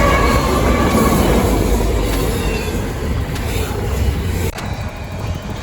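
A fast train passes close by, a loud steady roar of wheels and rail noise filling the whole stretch, easing slightly near the end.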